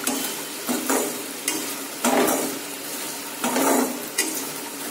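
Homemade popcorn stirred with a ladle in a hot kadai, giving repeated scraping, rattling strokes with a steady sizzle underneath, close and fairly loud, with no voices.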